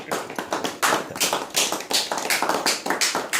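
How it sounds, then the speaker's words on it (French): An audience applauds at a champagne presentation in Reims, a steady burst of many hands clapping quickly and close, with no voices over it. "Sous vos applaudissements,"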